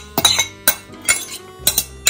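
Red cabbage salad tipped from a small bowl into a larger bowl, giving several sharp clinks and knocks of dish against dish at irregular intervals, close and fairly loud with scraping in between.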